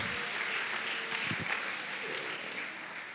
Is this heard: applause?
yes